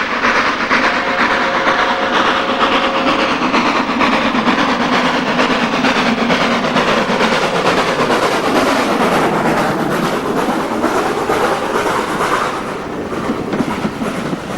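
Steam locomotive Jessie working along the railway, a loud, continuous hiss and rumble of wheels on track with rhythmic clatter, steady and close throughout with a brief whistle-like tone early on.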